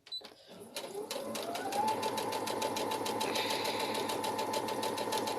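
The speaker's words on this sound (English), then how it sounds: "And we carry on stitching all the way around your lining." A sewing machine stitches around a girl's dress lining, starting up after a few clicks and then running in a steady, close mechanical whir with a rapid rhythmic needle ticking.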